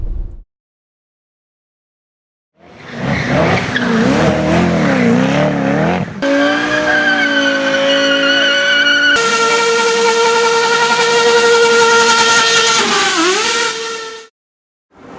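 Cars passing at the Goodwood Festival of Speed, loud engines roaring by close in successive waves with rising and falling pitch, revving hard before cutting off abruptly.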